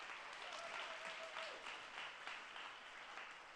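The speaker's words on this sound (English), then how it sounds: "Give them a big round of applause." Quiet applause from an audience at a marketing outlook meeting, an even stretch of clapping heard at low level with a faint tonal sound briefly underneath.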